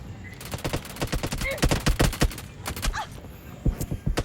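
Rapid bursts of gunfire from the mobile battle royale game Battlegrounds India, a dense string of sharp automatic shots close by, fairly loud, with brief gaps between volleys.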